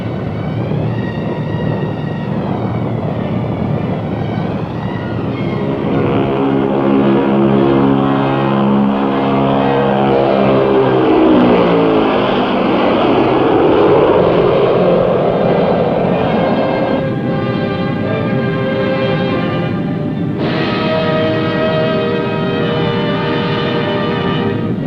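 A B-36 bomber in flight with its propeller engines, a loud, steady droning roar with a pitch sweep as it passes, holding strong throughout with no talk over it.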